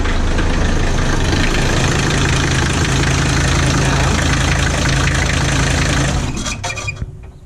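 A car engine idles steadily and loudly up close for about six seconds, then shuts off and fades away, leaving a few faint clicks and no voices.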